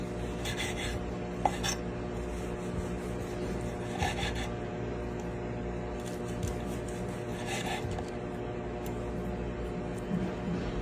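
A knife saws into a cooked medium steak, with soft rasping strokes repeating every couple of seconds over faint background noise, quiet and close.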